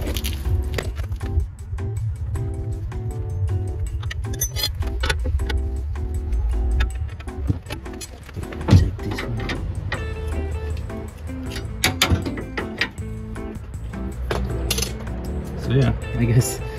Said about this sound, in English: I just tighten it by hand.